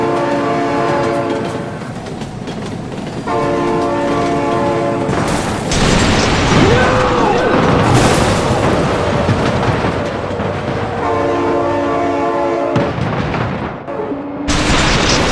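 Train from the BeamNG.drive driving game rushing past with long, loud, sustained horn blasts over a rumbling roar, sharp crash-like bursts breaking in near the middle and end, no talk.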